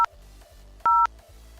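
Touch-tone keypad beeps as a phone number is dialed to call Electronic Arts, one brief tone and then a longer one, over a low hum, with no talking.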